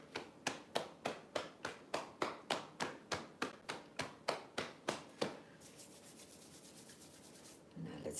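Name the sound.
fingers rubbing through hair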